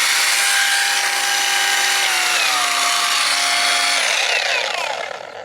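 A Total cordless polisher whirs at its top speed of 2,800 rpm with a steady motor whine that shifts pitch briefly, then spins down at the end.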